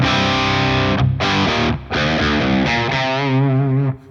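Electric guitar through a Friedman Small Box overdrive pedal on its crunch channel, with a crunchy, gritty tone, strums a few sustained chords in a row, loud and close, with short gaps between.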